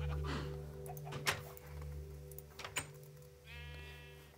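Sheep on a video game farm give a short, fairly quiet bleat near the end, preceded by scattered thumps and clicks over a steady low game hum.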